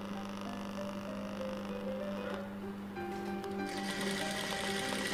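A sewing machine stitching a blouse runs steadily in a fast, whirring mechanical rhythm, close and continuous, rising in pitch and intensity toward the end.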